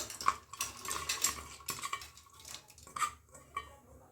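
Washed lentils tipped into a metal pressure cooker, with close, brisk clinks and scrapes of a spoon against the pot over a few seconds; no talk.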